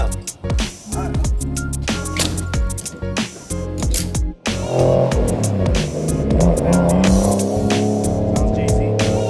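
Mazda Miata drift car at AMP screams through repeated revving bursts and sharp throttle blips, engine pitch rising and falling rapidly, with a brief cut near the middle before a sustained, loud, tire-squealing run.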